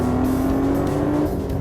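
A BMW M3 straight-six engine on a race track, a loud sustained mechanical drone held at a steady pitch with a brief dip near the end, close and unaccompanied by talk.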